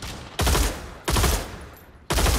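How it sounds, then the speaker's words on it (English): Gunfire in the VR shooter Pavlov comes in three loud, close automatic bursts, each lasting well under a second and separated by brief pauses. "somebody's here shooting at me"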